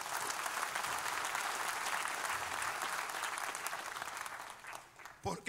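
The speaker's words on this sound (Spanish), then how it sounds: "Dele un aplauso a Jesús." Church congregation applauding steadily, a dense wash of clapping that fades near the end, where a few louder isolated sounds break through.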